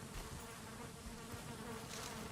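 Bees buzz in the video game Valheim, a dense, continuous droning hum that stays steady and fairly close, with no talking over it.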